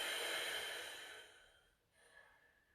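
Deep breathing during a static stretch, a long steady exhalation that fades out, followed by a softer short breath, close and quiet with no talk.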